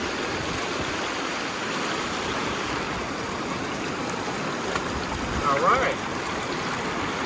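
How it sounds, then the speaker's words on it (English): Water rushing steadily through a Keene A52S gold sluice outdoors, a loud continuous broadband wash filling the clip, with someone speaking briefly near the end. "The sluice is working like it should."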